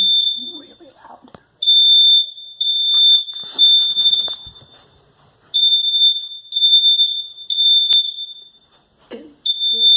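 A building fire alarm under test blares a piercing, shrill tone in long repeated bursts with short gaps, very loud and close, while a person speaks in between.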